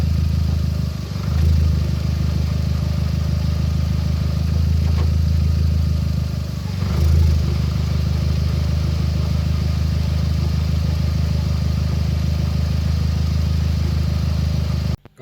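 A motorcycle engine runs steadily on a stand with its wheels spinning off the ground, a continuous mid-pitched hum with a couple of brief surges in revs, close by and without speech.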